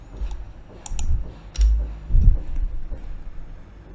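Keys clicking on a computer keyboard while a command is entered, a few quick irregular taps with a couple of heavier keystrokes, close and fairly clear with no talk over them.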